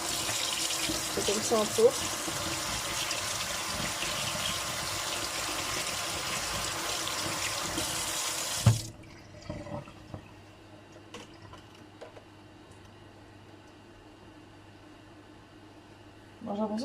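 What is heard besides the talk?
rinsing a spoon under running tap water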